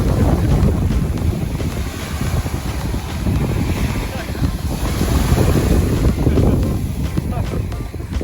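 Wind gusts roar steadily across a cloudy beach in Varadero, Cuba, with a constant low rumble buffeting the microphone and waves faintly beneath, continuous and loud throughout.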